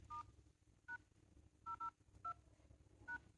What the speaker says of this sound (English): first open the phone app and dial